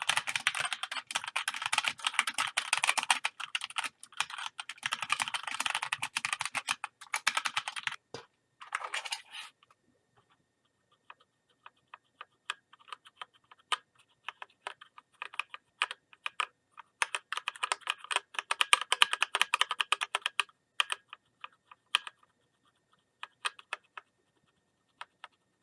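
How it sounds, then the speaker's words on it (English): Sustained typing on a MagicForce 68 mechanical keyboard fitted with Gateron Clear switches: dense, fast clacking at first, then a pause and sparser scattered keystrokes building back into quicker runs, all close up with no voices. "Here's a sample of what the keys sound like"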